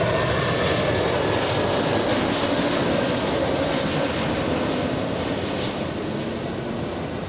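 A Delta Airlines jet on runway 24 right at LAX gives off a loud, steady engine roar that holds evenly throughout, with no voices.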